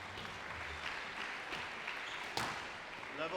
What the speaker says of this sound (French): Allez, on les applaudit.